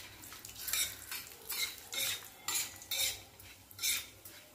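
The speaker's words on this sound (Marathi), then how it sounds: "खोबरं भाजताना गॅस कमी करायचा।" Grated dry coconut roasting in a pan over low heat, with a soft recurring scraping and rustle as a spoon stirs it in short bursts, fairly quiet and close.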